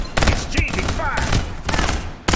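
Rapid bursts of gunfire trade back and forth in the shooter Farlight 84, loud and close, with short gaps between volleys and brief effect sounds mixed in.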